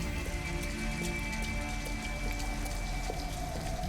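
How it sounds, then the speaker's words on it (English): Steady rain falling in the video game Detroit: Become Human, a dense continuous patter of drops on surfaces with no voices, holding an even level throughout. "She's freezing cold. Raining."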